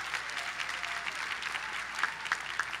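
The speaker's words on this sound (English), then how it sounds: "give them a round of applause wherever they are." Warm audience applause at a 2018 commencement ceremony, continuous clapping from a large crowd with a few louder claps standing out near the end.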